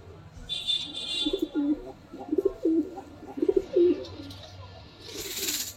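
Tippler and pulser pigeons cooing in a loft, a repeated series of soft throaty coos near the microphone, with a faint high chirping above and a brief hiss at the end.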